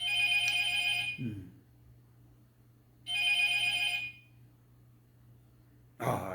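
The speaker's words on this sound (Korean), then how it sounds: "전화기도 참 끈질기게 울립니다" A telephone rings in bursts in a quiet room during a Korean Buddhist lecture, two long electronic trills about a second each separated by silence, with a third starting at the end and a faint low hum underneath.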